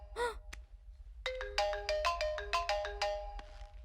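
A mobile phone ringtone for an incoming call plays a bright, repeating melodic tune of several short tones, preceded by a brief chirp, in a quiet room with no talking.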